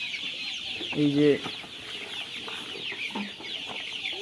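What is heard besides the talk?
Sonali chickens clucking, coming for feed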